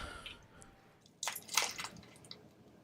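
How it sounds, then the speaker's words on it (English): Crunchy biting in Path of Exile 2, with a faint crackle at the start, then a burst of wet, crunchy bites and squishy chewing up close, easing off into a few small clicks, no voices. "Sounds like biting into some cardboard."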